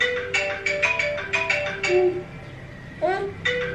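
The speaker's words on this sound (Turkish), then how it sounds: "Telefon çaldı." A mobile phone plays a melodic ringtone in repeated short tonal bursts, loud and close, with brief voice sounds mixed in between the tones.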